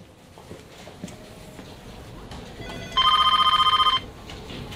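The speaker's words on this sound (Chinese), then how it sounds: "电话在响。" A telephone rings in an office, one clear electronic ring lasting about a second, loud and close over quiet room tone.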